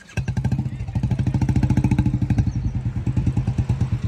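A motorcycle engine thumps close by in a fast, even rhythm of pulses that holds steady for several seconds as the bike pulls away, with no voices.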